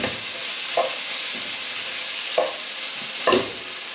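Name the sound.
tomatoes being stirred into frying vegetables in a pan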